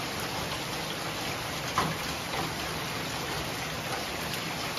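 Steady rain hisses evenly and continuously, with a soft rushing texture and one faint knock partway through.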